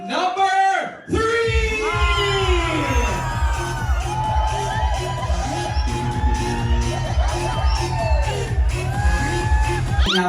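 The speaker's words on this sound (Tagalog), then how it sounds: "isang malakas na sigawan may kasamang palakpakan for our candidate number 3" A loud crowd at a pageant cheers, whoops and shouts for a candidate. Pounding rhythmic music plays beneath, and brief shouted voices ride over the steady roar of the crowd.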